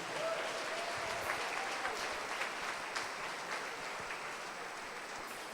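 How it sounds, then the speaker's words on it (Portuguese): A church congregation at a worship service in Araruama claps together in a sustained round of applause, a thick wash of hand claps held at an even level throughout, with no voices standing out. "Dá uma salva de palmas ao Senhor."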